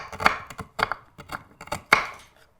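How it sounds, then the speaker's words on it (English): A knife chops an onion finely on a board in quick, irregular bursts of crisp, close taps, loud and alone. "we're going to chop this really nice and fine"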